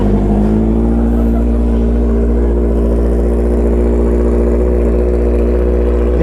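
A Honda CB650R motorcycle engine on a cold start runs loud and close with a steady, throbbing rumble, idling high and slightly uneven throughout.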